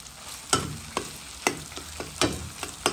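Liver pâté and spices for rougail are stirred in a hot frying pan, a series of sharp scraping and tapping strokes in an irregular rhythm over continuous low sizzling.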